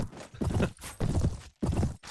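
Horse hooves clip-clop in a steady galloping rhythm in the medieval combat game Mount and Blade, loud and close, falling into repeated bursts separated by brief gaps.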